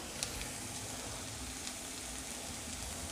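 Ground spices, fennel powder and garam masala among them, sauté in a pan over a medium flame, a faint steady sizzle with a soft hiss that runs evenly throughout.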